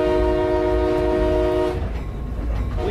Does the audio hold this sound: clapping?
no